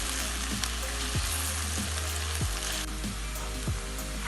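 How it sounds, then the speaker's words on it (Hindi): Onions browning in hot oil in a pan for fish korma give a steady broadband sizzle, with periodic scraping stirs of a spoon at regular intervals, close and alone without talk. "प्याज को अच्छी तरह हम ब्राउन करेंगे।"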